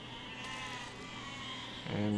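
Sheep in the video game Besiege bleat over a constant mechanical drone, and a louder, nearer bleat rises at the very end.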